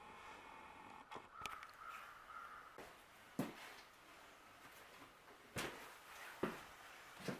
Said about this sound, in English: Weren't many birds, had some crows.